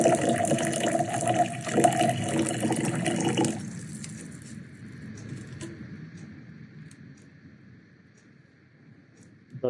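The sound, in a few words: water being poured into a container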